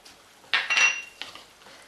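Grated ginger, raisins and pear are mixed in a bowl for a fermented chutney: a few quick clinks and scrapes of a spoon against the dish, fairly close, then quieter shuffling.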